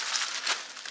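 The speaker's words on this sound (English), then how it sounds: "So I'm just kind of pulling them apart now, separating them out" Soaked corn husks for tamales crinkle and rustle as they are pulled apart, a brief close, papery crackling with no voices.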